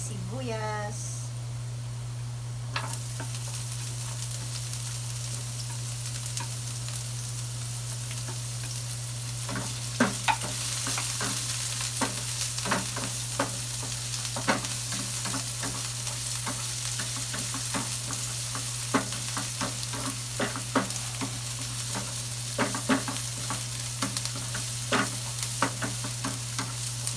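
Chopped onions sautéing in oil in a pan for ginisang sayote with sardines, a steady sizzle under scattered clinks and scrapes of a spoon stirring, close, while a voice talks over it.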